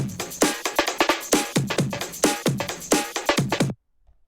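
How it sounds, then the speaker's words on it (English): A sampled breakbeat drum loop plays alone for a future garage track, with punchy kicks, snares and busy hi-hats in a steady, dense groove that stops abruptly near the end. "when I first started, I started off with these drum breaks here."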